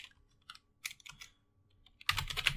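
Fingers type on a computer keyboard in scattered bursts of soft clicks, ending in a louder rapid flurry of keystrokes. The sound is close and there is no talk.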